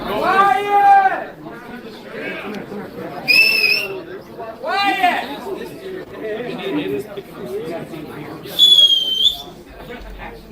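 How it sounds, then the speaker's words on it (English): A man whistles loud, clear, sliding tones in a few short bursts, rising and falling, amid group chatter and laughter; people talk and shout between the whistles. "Man, that guy can whistle."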